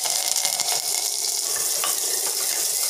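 Chopped onions and a sprig of curry leaves hit hot oil with mustard seeds for a village-style Tamil dish, producing a loud, steady, dense sizzle with faint crackles and spoon stirring throughout.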